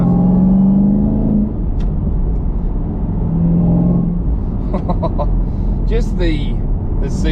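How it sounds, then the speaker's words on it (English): A supercharged V8 in a 2020 Chevrolet Camaro ZL1 revs loudly and close, its deep rumble rising and falling through several throttle blips, with supercharger whine and a few brief clicks near the end. "I love that V8 Supercharged V8 sound"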